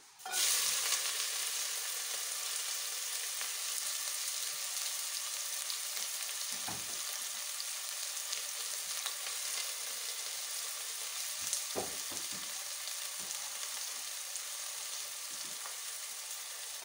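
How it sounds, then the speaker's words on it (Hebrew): Chopped medium onion sizzles steadily in hot olive oil in a nonstick pot over medium-low heat, a dense continuous frying hiss with a few faint stirring knocks and no talking. "כשהשמן חם אני מוסיף בצל בינוני קצוץ."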